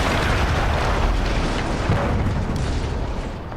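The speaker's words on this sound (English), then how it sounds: "That explosion was one of the sweetest sights of the war for me." A big explosion in the World War I shooter Battlefield 1 booms as a heavy, rumbling blast with a dense low roar that fills the moment and slowly tails off toward the end, with no talking.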